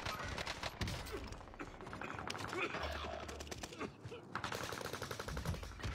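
Video game gunfire crackles in rapid bursts and sustained automatic volleys, faint and layered under players chatting over voice chat.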